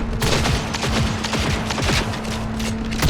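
Gunfire in the video game Cyberpunk 2077, a rapid burst of close, loud shots firing in quick succession over a low game background hum.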